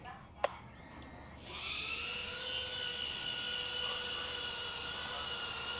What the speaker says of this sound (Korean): 자, 이게 첫 번째 드론입니다.